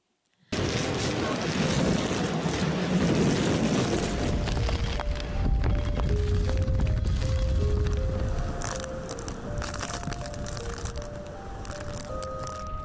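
Tornado winds roar from a played clip, a loud broad rushing gust that swells for several seconds and then eases slightly, with faint tonal notes drifting over the steady wind noise.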